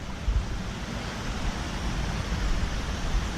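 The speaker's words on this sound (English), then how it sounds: "Little bit of a waterfall." Small waterfall on a slow river in a park after snow: a steady, even rush of falling water, continuous and moderately loud with no breaks.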